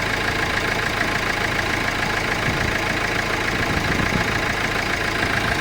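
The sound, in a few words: used car engine idling smoothly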